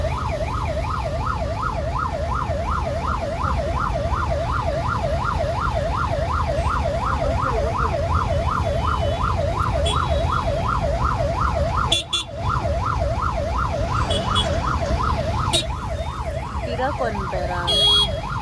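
Ambulance siren wailing in a fast, continuous up-and-down warble through heavy traffic, loud and near, holding steady for most of the stretch over a low rumble of engines, with a few honks and faint voices late on.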